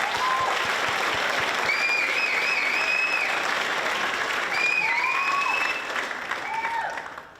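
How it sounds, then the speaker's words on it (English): An audience at a school performing arts show claps in a steady, full round of applause lasting about seven seconds, with faint voices calling out over it before it tapers off. "so please give him a big round of applause."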